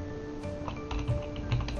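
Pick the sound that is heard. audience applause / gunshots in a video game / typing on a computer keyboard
typing on a computer keyboard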